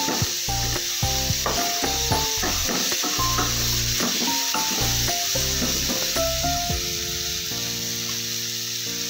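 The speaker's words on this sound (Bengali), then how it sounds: "মশলা দিয়েও ভালো করে নেড়ে চেড়ে দেবো" Spices and tomatoes fried and stirred in a pan, sizzling steadily under repeated scraping strokes of a spatula, close up with no talking.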